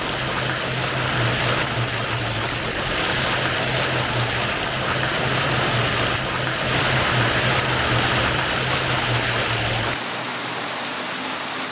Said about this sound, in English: what's not to like about the splashy waterfall?